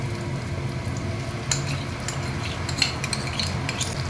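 Coated fried fish pieces for chilli fish sizzle in a pan over a medium gas flame as sauce goes in, with a steady frying hiss under scattered scraping and clinking of a spatula stirring, close and fairly loud.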